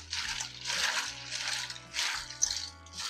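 Water poured from a container over cut potato fries sitting on ice cubes, splashing and trickling in several close bursts with short pauses between, ice clinking faintly, no voices.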